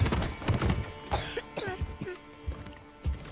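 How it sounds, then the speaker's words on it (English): A single slight cough from a character in the video game God of War, with low rumbling game ambience and faint clopping sounds around it. "Slight cough."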